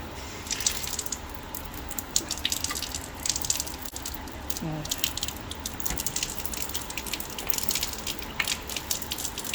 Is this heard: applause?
no